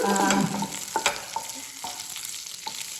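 Green chilies sizzle and spit in a hot pan, loud at first and then easing off, while a spoon scrapes and stirs in several distinct knocks. No voices.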